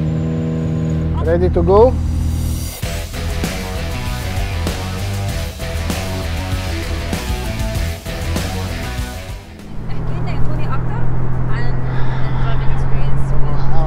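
McLaren Elva open-cockpit sports car starting off, its engine droning steadily and then rising as it accelerates, loud and close, with wind rushing over the open cabin; a person speaks briefly at the start.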